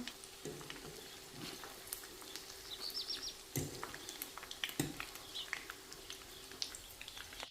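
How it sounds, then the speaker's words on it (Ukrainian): Soft, steady sizzling of battered cauliflower fritters frying in a pan, with occasional light clicks and taps of a utensil and faint chirps in the background. "Тут вже жаряться другі."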